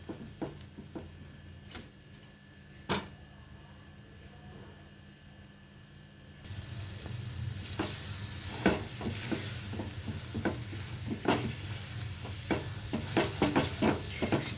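Coconut semolina burfi mixture cooks in a pan, giving a soft sizzle with scraping stir strokes, first faint with scattered clinks, then louder and steady with repeated stirring.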